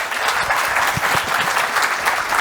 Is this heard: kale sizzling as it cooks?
no